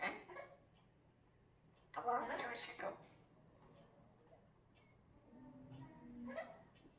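A dog gives short yips and barks mixed with whimpering, close and fairly quiet, in bursts near the start and middle, while a person talks nearby.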